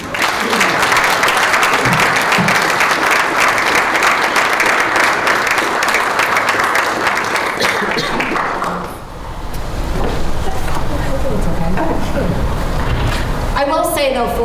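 Sustained applause from an audience at a breakfast event honoring business co-owners, dense steady clapping for about nine seconds that then fades as talk takes over.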